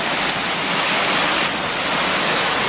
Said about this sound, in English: Little cascades down there.